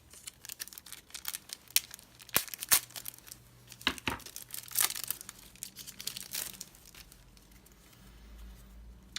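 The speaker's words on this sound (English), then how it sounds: "we're going to have to get the knife out again because this pack is really not opening" Card pack being cut and worked open with a knife, giving close crinkling and tearing wrapper sounds in short bursts with scattered sharp rustles, no speech.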